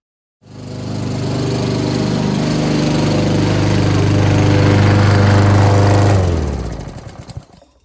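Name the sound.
lawn mower mowing grass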